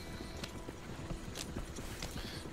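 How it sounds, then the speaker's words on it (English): Horse hooves clip-clop at a steady walking pace in Red Dead Redemption 2, the faint hoof beats layered over low rumbling ambience. "Make sure our horses come along too"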